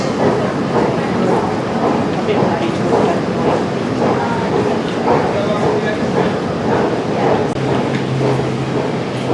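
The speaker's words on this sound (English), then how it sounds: "Here comes our train" A train pulling into a London station platform, rhythmic wheel clatter and rumble rising steadily, close and loud, with a low hum entering near the end.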